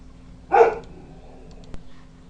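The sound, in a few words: dog barking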